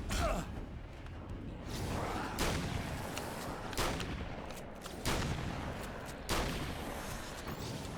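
Rapid SMG bursts in Alan Wake: American Nightmare, repeated broadband gunfire cracks over a dense, loud game soundscape, with several sharp shots spaced every second or so.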